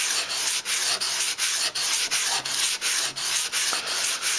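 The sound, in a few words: sharpening kitchen knife on sandpaper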